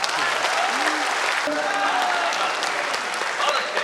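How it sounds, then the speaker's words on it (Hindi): An audience applauds at a Holi festival comic poetry gathering in Mewar, with dense, steady clapping from a large crowd that continues throughout. "पर तालियां ऐसी बजाओ कवि कहे क्या बात है"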